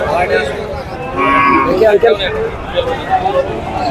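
A cow moos loudly and close by at a cattle market in Baro Bazar, Jhenaidah, one drawn-out low call amid a murmur of nearby voices.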